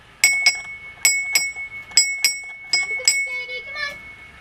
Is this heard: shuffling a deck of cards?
no